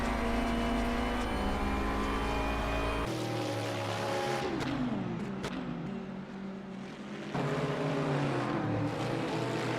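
A GT3 race car's engine roars loud and steady from onboard during a racing-game event at Spa-Francorchamps, with its pitch dropping and rising again through gear changes and a brief lift partway through.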